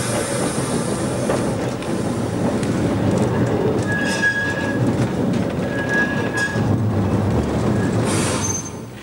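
Vintage tram running at the Ballarat Tramway Museum, a steady rolling rumble with rail clatter and brief high wheel squeals on the track, loud and continuous with no talk.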